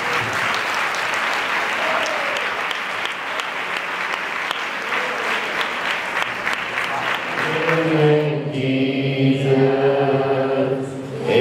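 Church congregation clapping together in thanks to God, dense sustained applause filling the room, with a voice speaking over it and a sung or chanted line rising near the end.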